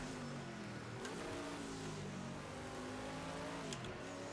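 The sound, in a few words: race car engine ahead, Jaguar or Porsche, video game Project CARS 2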